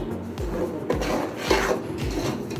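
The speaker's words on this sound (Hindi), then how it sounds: "अम्मी जान अब सूजी को चूल्हे पे भून रही हैं, थोड़ा लाइट ब्राउन करेंगी।" Semolina roasting dry in a pan on a stove, stirred so a spoon scrapes and rasps across the metal in repeated strokes about every half second, close and moderately loud with no talking.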